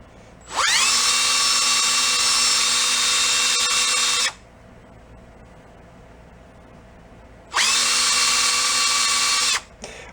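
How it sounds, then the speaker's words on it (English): Power drill spinning a cleaning attachment against a John Deere carburetor part, two loud high whining bursts of several seconds each separated by a quiet pause, no talking. "get that chucked up in the drill, and we are going to go"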